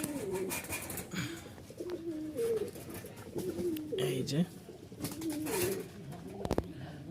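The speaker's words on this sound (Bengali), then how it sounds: "এখানে এক জোড়া কবুতর" A pair of Rajshahi Giribaz pigeons coo nearby in repeated short rolling calls, with someone talking between and over them.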